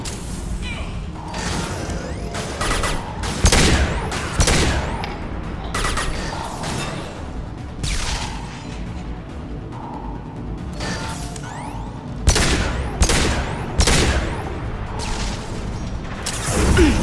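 Rifle fire in Mass Effect 2, a series of sharp mechanical bangs with ratcheting clicks between them, loud and near, spaced irregularly with short pauses, and some combat chatter in the background.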